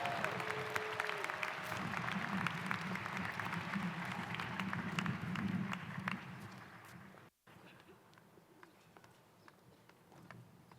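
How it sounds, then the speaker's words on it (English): Audience at a law school diploma ceremony applauds award recipients, sustained clapping that fades after several seconds into a few scattered claps in a large room. "Let's have a final round of applause for all of the award recipients."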